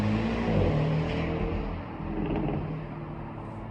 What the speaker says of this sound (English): Oh my god, that's a cool car.